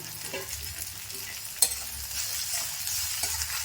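Eggs are cracked and poured into a hot pan of frying drumstick flowers. A soft sizzle is broken by one sharp crack midway, and then the sizzle swells steadily and close.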